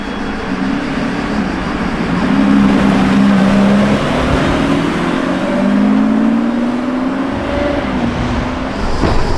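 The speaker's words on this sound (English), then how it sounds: "Alright, black Revuelto is back." A black Lamborghini Revuelto hybrid prototype drives past on the road, a loud, close engine note that rises in pitch as it accelerates, swells and fades over several seconds, with no talking.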